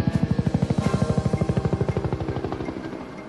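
Combat helicopter patrolling a desert perimeter, its rotor thumping in a fast, steady beat with a whining turbine buzz, loud and close at first and gradually fading as it moves off.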